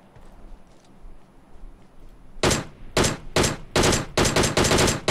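Gunfire in the battle royale game PUBG: after a quiet start, a series of loud, sharp shots bursts out, coming faster and closer together toward the end, with no talking over it.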